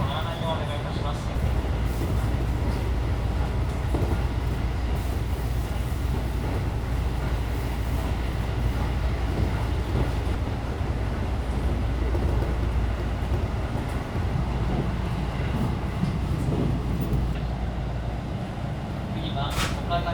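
A JR Central Shinkaisoku rapid train bound for Ogaki runs steadily, giving a continuous low rumble of wheels and motors throughout, with faint onboard announcement-style voices at times.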